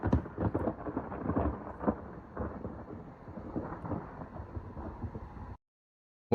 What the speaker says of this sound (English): there's that a really close lightning strike